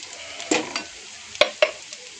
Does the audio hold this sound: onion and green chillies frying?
yes